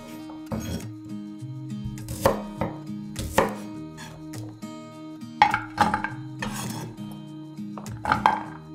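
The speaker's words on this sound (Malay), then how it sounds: "Hiris kasar." A knife coarsely slices small shallots on a board for rendang, giving about eight sharp, distinct chops at an uneven, unhurried pace, close and clear. Faint background music plays beneath.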